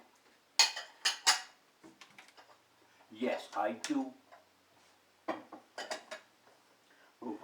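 Plates, pots and cutlery clatter and clink as a dishwasher is emptied at home, in sharp clusters of close clanks spread through the stretch, while someone speaks briefly in between.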